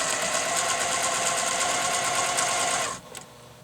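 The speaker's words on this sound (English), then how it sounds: "now I'm going to stitch the outside of the teardrop shape" A sewing machine free-motion quilts the outline of a large marked teardrop motif, running at a steady high-speed hum with a fast stitching buzz for about three seconds before stopping abruptly, followed by a faint brief clack.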